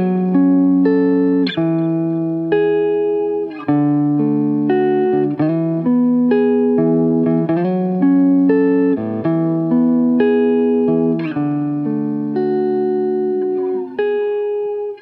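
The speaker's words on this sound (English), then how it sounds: "Let's work on these few bars of an electric guitar." Several bars of electric guitar in a clean tone, a sequence of sustained single notes with occasional slides and bends, steady and fairly loud with no voices.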